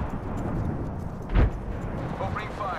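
An Apex Legends frag grenade goes off in a single short, deep blast partway through, set under a steady bed of game noise while voices talk.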